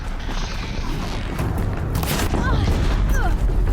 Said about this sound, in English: Yep, there's the explosion.